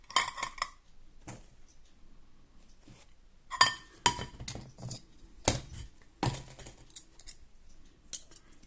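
A lightweight metal folding camping pot stand for an alcohol or wood gas stove is handled up close. It gives off scattered bright clinks and rattles, in sharp isolated taps and short clusters with quiet gaps between.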